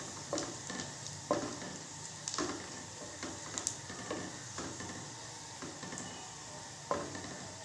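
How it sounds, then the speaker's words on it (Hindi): Whole spices (black cardamom, three or four cloves, black pepper and cumin) fry in hot oil in a pot, a soft steady sizzle punctuated by occasional clinks and scrapes of a stirring spoon. "जिसमें है 1 बड़ी इलायची, 3 से 4 अदद लौंग, काली मिर्च और ज़ीरा। हमें डालकर 1 मिनट फ्राई करेंगे।"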